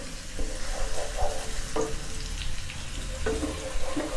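Shallots, garlic and spices sauté in a pan for nasi mandhi, with a continuous close sizzle broken by a few sharp stirring scrapes and clinks, and no talk.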